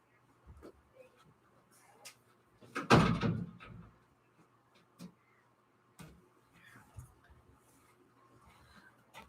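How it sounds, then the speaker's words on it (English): A door down a hallway is pushed shut with one solid thud and a short rattle, followed by faint scattered knocks and room noise. "I got to shut the door."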